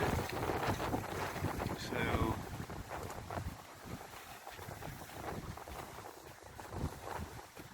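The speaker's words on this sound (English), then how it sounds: "so we're doing over 5 knots, full sail up again, so we're doing really well" A sailing boat under full sail making over five knots, with continuous wind buffeting the microphone and water rushing along the hull, loud at first and easing slightly, someone talking over it.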